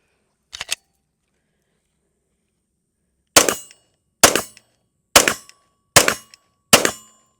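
A Shadow Systems DR920 9mm pistol is fired: one sharp burst early, then after a pause five loud, evenly spaced shots, each with a short ringing decay, heard up close outdoors.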